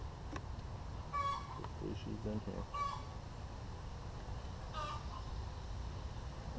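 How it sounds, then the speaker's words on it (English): Excited chickens cluck in a few short, sharp bursts against a steady outdoor background, fairly distant, while a person speaks briefly nearby. "The chickens are really excited."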